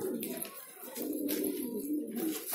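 An old pigeon, around twenty years of age, coos in a soft, low, repeated rumble at close range, with other birds and faint chatter in the background.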